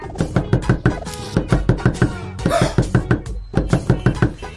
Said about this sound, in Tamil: இந்த நேரத்துல வந்து யார் கதவு தட்டுறா?